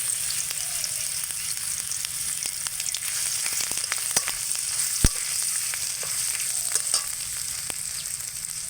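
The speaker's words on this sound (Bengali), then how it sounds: "তেলটা গরম হয়ে গেছে। এবার এর মধ্যে আমি একটু সামান্য জিরে ফোড়ন দিয়ে দিচ্ছি।" Grated ginger and cumin seeds sizzling in hot oil in a pan, a steady loud frying hiss with scattered pops and crackles throughout, close up and without talk.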